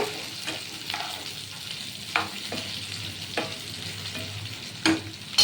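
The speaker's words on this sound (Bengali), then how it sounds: "একটু নেড়ে চেড়ে" Pointed gourd and prawns fry in a pan while being stirred, a low steady sizzle broken by several sharp scrapes and clicks of the spatula, close and clear with no talking.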